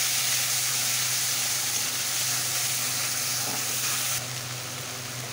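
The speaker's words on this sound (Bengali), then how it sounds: "আর এই যে আদা, টমেটো আর রসুনের তেল, এটাকে দিয়ে দিচ্ছি। এটা ভালো করে কষিয়ে নেব।" Ginger, tomato and garlic oil sautéing in a hot pan, giving a steady close hiss and sizzle that eases slightly toward the end, with no talking.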